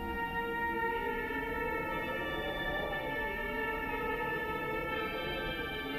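A song from Fatal Frame: Mask of the Lunar Eclipse, a slow melody of long, sustained tones, plays softly, with notes gliding gently from one pitch to the next.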